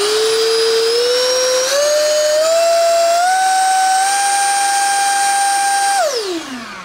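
A Ryobi variable-speed shop blower whines loudly and close, its motor pitch climbing in steps as the trigger is squeezed, holding high, then spinning down when released; no one talks.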